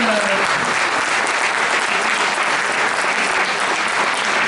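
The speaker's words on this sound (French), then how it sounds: "je pense que vraiment on peut applaudir" A campaign meeting audience in Tulle claps steadily and densely for the full stretch, a loud, even wash of applause with no pauses and faint voices mixed into the crowd.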